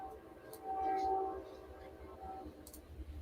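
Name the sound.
Norfolk Southern train passing behind the shop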